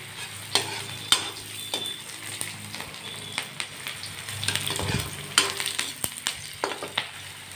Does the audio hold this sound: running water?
no